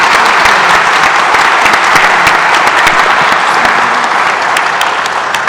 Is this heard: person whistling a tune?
no